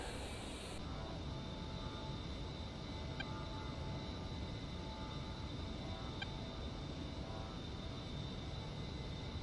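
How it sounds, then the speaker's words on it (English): An A-10C jet taxis toward the runway in the DCS flight simulator, a steady low engine rumble with a constant whine over it, continuous and even, with no one speaking. "Alright, let's taxi to the runway."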